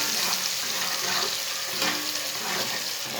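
Finely chopped onion browns in a pan with cumin and coriander while a spoon stirs it, giving a close, steady hiss with a watery sizzle and soft scraping.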